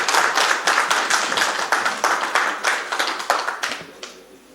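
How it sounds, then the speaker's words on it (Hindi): Clapping from an audience for speaker K. G. Suresh at an education event, a brisk, loud burst of many hands with distinct rhythmic claps that gradually thins and fades out over a few seconds. "एक बारी जोरदार केजी सुरेश जी के लिए ताली बजा"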